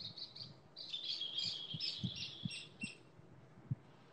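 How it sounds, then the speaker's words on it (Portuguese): Small birds chirp and tweet outdoors near a house, a quick run of high bright calls in irregular bursts, fairly faint, with soft low knocks underneath and no talk. "Os passarinhos. Tem aqui e aí, né?"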